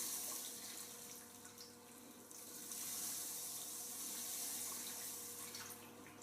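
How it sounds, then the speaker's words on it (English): Pale malt grains tipped into mash water and stirred in during a first all-grain home brew, giving a steady soft watery wash and swish that carries on throughout, fairly quiet and with no voices. "And now we need to add dough in our grains very carefully and stirring all the time."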